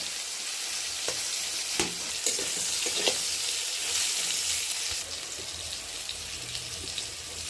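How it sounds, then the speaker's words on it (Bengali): Pointed gourd (potol) pieces frying to a reddish brown in a pan on a gas stove, a loud continuous sizzle with a few sharp scrapes and taps from stirring near the start. "পটলটা দেখি সুন্দর লাল লাল ভাজা হয়ে গেছে"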